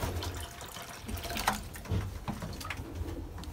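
Water poured over a frozen waterer in a pigeon loft during freezing weather, a close splashing, gushing wash with a few sharper splats and drips over a few seconds, with no voices.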